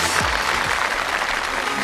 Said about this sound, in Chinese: 掌声有请藏族男子汉